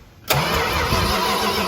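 A Mini Duster car engine with new heads and cam fires up on its third start, catching abruptly after a brief quiet moment and settling into a loud, rough, steady idle at close range.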